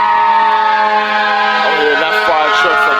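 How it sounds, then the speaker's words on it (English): Fire truck siren sounding from a distance, a strong wailing tone that holds steady and then begins rising and falling in pitch, with a faint voice underneath. "I'm hearing that fire truck from all the way over there."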